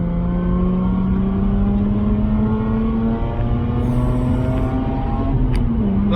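Mazda RX-8 rotary engine held at high revs, a loud continuous whine with steadily climbing harmonics as the engine pulls, heard from inside the car.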